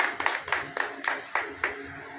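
Committee members give a short round of hand clapping at a gathering; about six distinct claps spaced unevenly, fairly close and moderately loud, with no one speaking.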